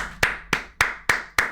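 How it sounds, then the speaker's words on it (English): Five slow, evenly spaced hand claps from one person close to the mic, each sharp and distinct with a brief decay, and no talking. "Let's take a second and clap for him."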